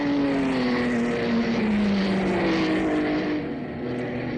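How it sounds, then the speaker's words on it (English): A 1958 Maserati 250F Grand Prix racing car driven at about 120 to 130 mph past a trackside spot at the Australian Grand Prix, its engine a loud sustained drone with the pitch gradually falling as it goes by. "Stan Jones went by then in his Maserati 250F, must have been doing about 120 to 130"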